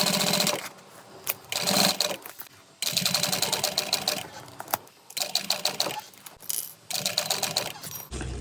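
A sewing machine stitches the seam of a convertible tote bag in bursts of rapid mechanical clatter, with short pauses between runs as the fabric is turned. The machine is close and clear, and no one speaks.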